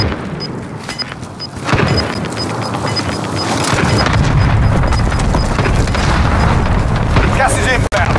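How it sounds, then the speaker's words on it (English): Allied cluster strike in the video game Warzone, a loud continuous barrage of booming explosions and rumbling impacts with gunfire, under game voice lines and speech. "Allied cluster strike inbound."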